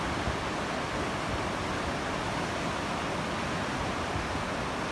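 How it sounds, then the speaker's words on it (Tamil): A large waterfall in Ladakh roars with a dense, unbroken rush of falling water that stays steady and fairly loud throughout. "அதுக்கு சென்டரில் தான் அந்த பெரிய ஃபால்ஸ் இருக்குது."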